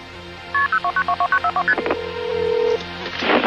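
A home telephone dials a programmed number as a rapid run of about a dozen even touch-tone beeps, followed by a steady tone and rising line noise, clear and close.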